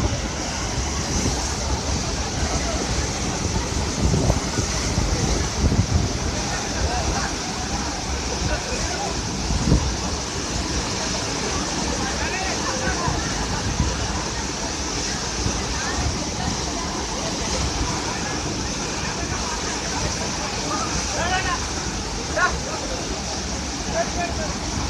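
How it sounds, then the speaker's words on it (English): Roaring of Athirapally waterfall from roughly 50 meters away, a dense steady broadband rush that stays loud and constant throughout, with faint voices now and then beneath it. "we are as close as around 50 meters or 50 feet from the waterfall"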